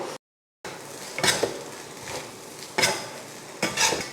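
Egg fried rice with coriander leaves is stirred in a pan with two ladles, giving several distinct metal scraping bursts over a soft background sizzle, after a brief silent gap at the start.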